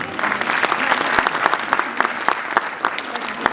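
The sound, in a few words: audience applause at a school annual day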